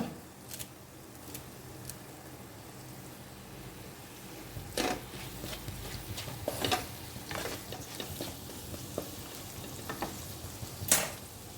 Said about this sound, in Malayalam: ഇതൊന്ന് ഒരു മിനിറ്റ് നേരം ഒന്ന് വഴറ്റിയെടുക്കാം നമുക്ക്